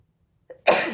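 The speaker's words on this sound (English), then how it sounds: "I feel like I'm going to sneeze." A single sharp sneeze bursts out after a brief quiet inhale, loud and close, with no talking.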